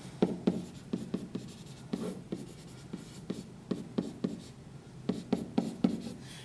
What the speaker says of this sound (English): what I'm going to do is just write my units over here on the right